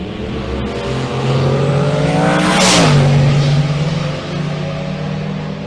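Loud engines roar and rise in pitch as cars, including a rear-wheel-drive Chevrolet Impala SS, accelerate hard down a drag strip and sweep past nearby, the whine peaking then dropping as they pass.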